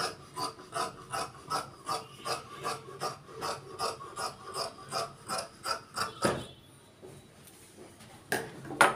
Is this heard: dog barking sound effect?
no